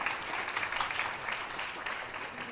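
Audience applause at a school 8th grade orientation, a dense, steady patter of clapping heard at moderate distance that carries evenly through the short stretch without any voices.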